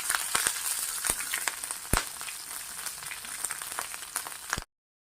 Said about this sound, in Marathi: आणि छान मिरची 1-2 मिनिट छान परतून घ्यायची।